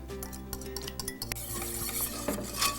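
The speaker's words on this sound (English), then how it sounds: "Now is the time to whisk in these egg yolks." A whisk beats egg yolks into a cheese soufflé base, making a continuous close scraping and clinking against the bowl with no voices.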